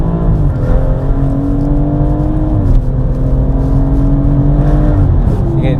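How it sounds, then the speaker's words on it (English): A BMW M140i with an Eventuri intake drones loudly and steadily on twisty roads, its engine note rising and easing back with throttle changes, heard from inside the car without talk. "You can really hear the Eventuri intake as well"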